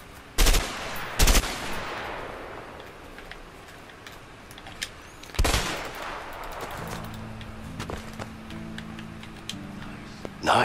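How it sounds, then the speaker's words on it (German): In the video game A Way Out, a pistol fires at the feet with a few sharp, loud single shots spaced seconds apart, separated by quieter game ambience and occasional ticks. "Ich kann nicht mal zwischen die Füße schießen. Aber ich kann ja auf den Fuß schießen."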